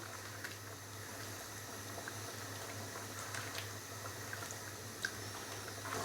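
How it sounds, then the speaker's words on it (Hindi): Chicken liver and gizzard sizzling in cooking oil over a high flame, a steady close frying hiss with small pops and crackles throughout. "अभी ऑयल के साथ इसकी अच्छे से भुनाई करेंगे मज़ीद 4 से 5 मिनट के लिए"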